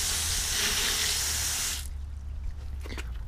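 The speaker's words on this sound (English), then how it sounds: "So first you want to start by rinsing the wheel." A car wheel, a 20x12 flat black rim, gets rinsed with a steady, loud rush of spraying water that cuts off abruptly partway through, leaving quieter background with a few faint clinks.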